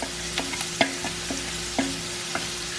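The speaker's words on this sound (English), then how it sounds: "I'm also going to add these onions because I want these onions to caramelize." Onions frying in a pan for caramelizing, with a steady low sizzle under scattered clinks and scrapes of a utensil stirring them, close and moderately quiet.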